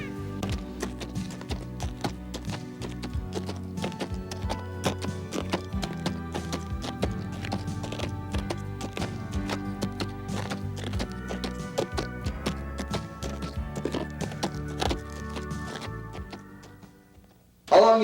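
Horses walking on a mountain trail ride, hooves clip-clopping in a steady, close, continuous rhythm throughout, ending with a brief louder knock at the close.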